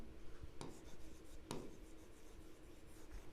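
Marker or chalk writing on a board during a financial-planning maths lesson gives a few faint scratchy strokes, two sharper squeaks standing out, with no talking.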